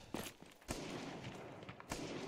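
Enemy gunfire in the Arma 3 Antistasi mode: a few sharp, distant shots and short bursts crack over a rough, rumbling background.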